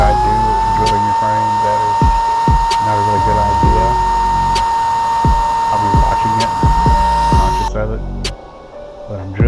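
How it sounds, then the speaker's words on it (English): A drill bores a hole through a motorized bicycle frame to take rivet nuts: a steady, loud whine runs almost continuously with small ticks and knocks, then cuts off near the end and leaves quieter shop noise. "I'm going to drill it."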